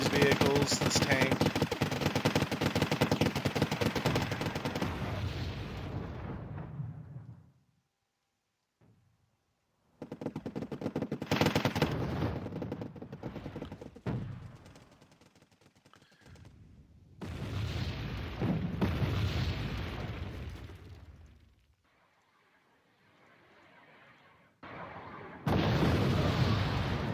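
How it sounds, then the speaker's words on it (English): Artillery shelling vehicles and a tank in the video game Wargame, dense rumbling gunfire and explosions in loud sustained stretches broken by sudden near-silent gaps, with speech in parts of the clip. "I'm shelling these vehicles, this tank."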